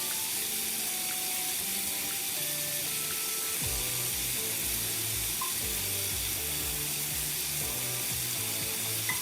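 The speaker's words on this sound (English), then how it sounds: "Doing is just tossing this really well to coat with all the oil and the juices that are in the pan." Green beans and snow peas sizzle steadily as they are tossed in a hot pan coated with oil and pan juices, a continuous crackling hiss with occasional stirring scrapes and no talking.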